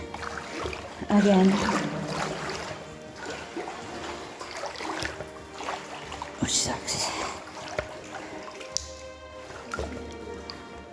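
Sloshing and splashing of legs wading through deep water in a flooded abandoned mine, irregular watery swishes and drips echoing in an enclosed space, with people talking intermittently over it.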